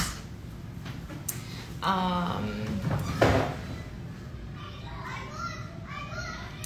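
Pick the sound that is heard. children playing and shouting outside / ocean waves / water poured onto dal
children playing and shouting outside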